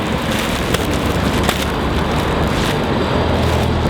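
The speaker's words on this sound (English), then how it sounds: "It's raining and cloudy" Steady rain falls outside a mall in Singapore as a dense, loud, unbroken wash of broadband hiss that continues without a pause for the whole stretch, with no voices heard over it.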